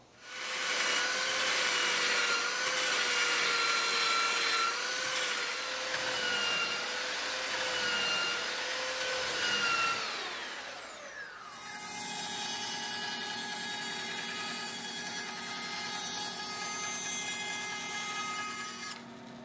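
A power saw cuts wooden pieces for a small wooden boat's rudder, a loud continuous whine for about ten seconds that drops in pitch, then shifts to a steady humming tone as the blade runs on, with no talk.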